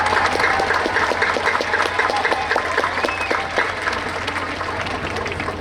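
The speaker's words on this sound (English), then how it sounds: "We really need to give them a huge thank you and a huge round of applause." A large crowd applauding at a high school commencement ceremony, bright clattering claps filling the space at full volume and holding steady, tapering only slightly toward the end.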